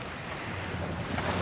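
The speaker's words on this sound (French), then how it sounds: "Mais là j'ai 15 nœuds de vent, hein." Wind at about 15 knots blows steadily across a sailboat riding at anchor, a continuous broadband roar with microphone buffeting and no talk.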